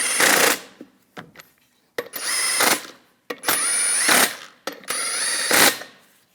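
Lug nuts being snugged onto the rear wheel of a 2015-2022 Chevrolet Colorado with a powered ratchet, giving four loud, close bursts of whirring with brief pauses between them.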